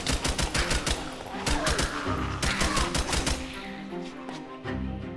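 Rapid video-game gunfire in a Deceased Craft Minecraft modpack: dense bursts of sharp shots in quick succession, then a brief pause and another volley, loud and close, with no talking.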